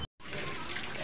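Water splashing and pouring inside a busy market in Jeypore, Koraput, heard as a steady, close wash of spray after a brief silent gap at the very start, with general market bustle mixed in.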